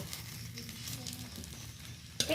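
A thin batter pancake filled with vegetables fries in a little oil poured around its edge, giving a soft, steady sizzle close by. Near the end a brief clatter breaks in.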